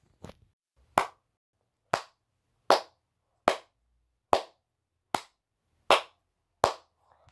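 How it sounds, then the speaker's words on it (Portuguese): Eight sharp claps in the Chicken Gun video game, spaced about one second apart in an even, deliberate rhythm, each crisp and close with a quick decay, alone with no talk. "Ah, quem tá batendo palmas?"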